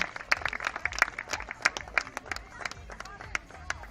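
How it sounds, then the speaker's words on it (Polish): A small crowd gives scattered, uneven clapping for the best goalkeeper at a youth mini football tournament awards ceremony, the claps sparse and moderately distant with murmuring in the background. "Najlepszy bramkarz turnieju, słuchajcie, wielkie brawa."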